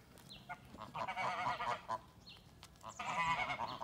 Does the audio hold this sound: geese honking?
yes